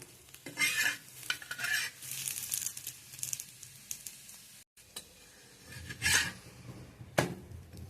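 Ragi adai flatbread fries in a pan with a soft, quiet sizzle, punctuated by several scraping and clinking turns of a spatula against the pan.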